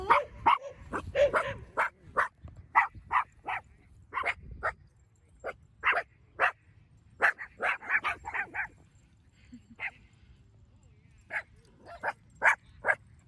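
Several big dogs bark in short repeated bursts, some near and loud, with yips and whimpers between, while people talk faintly in the background.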